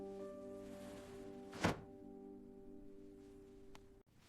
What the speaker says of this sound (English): I close the drawer.